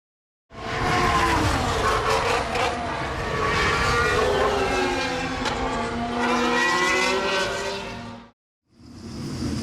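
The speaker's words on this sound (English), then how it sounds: "And we're underway for practice here at the Bahrain Grand Prix for Formula 2." Formula 2 race cars at practice at Bahrain International Circuit roar past loud and near, engines rising and falling in pitch with overlapping passes, a brief drop to near silence before another car approaches.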